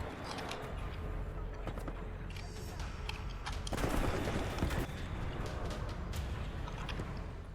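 Gunfire in the video game Titanfall 2: bursts of rapid automatic shots and impacts come and go at moderate level over a steady game background, with a louder flurry midway.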